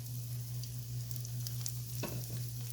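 Tikki kababs made with bread slices and eggs frying in hot oil over medium heat, a constant dense close sizzle with a brief stir or clatter about two seconds in.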